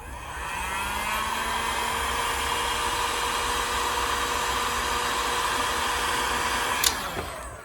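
A heat gun blows hot air to shrink heat shrink tubing on a 12V dual input circuit; a loud, steady whirring rush spins up at the start and cuts off near the end with a click.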